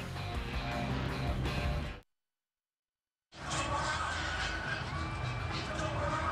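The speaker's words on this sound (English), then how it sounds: "A soaked but suddenly much happier crowd here in Waco, jumping around on the timeout, trying to give the Bears some energy." A soaked football crowd at a Baylor Bears home game in Waco against OU cheers and roars during a timeout in the rain, a loud, steady wall of noise broken by about a second of silence before it resumes.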